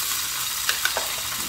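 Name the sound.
egg mixture sizzling as it is poured into a pan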